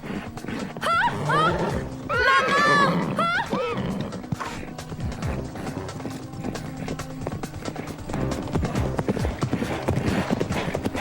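Galloping horses drum out a fast, rhythmic beat of hoofbeats that runs throughout, with voices calling out over the first few seconds.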